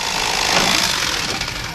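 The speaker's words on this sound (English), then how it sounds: "Keep your knife blade flat, tiny sawing motions if you're using a fillet knife." A fillet knife saws through panfish on a cutting board in tiny rapid strokes, a close, continuous rasping scrape without pause.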